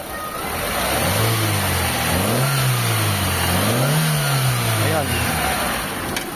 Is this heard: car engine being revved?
yes